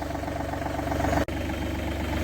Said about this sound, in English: Engine's nicely warming up.